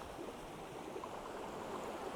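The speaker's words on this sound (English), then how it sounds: "every now and then those rogue waves come in" Ocean waves washing steadily onto a shoreline at dusk, a continuous broad hiss and churn of surf that holds even and faint throughout, with no voices.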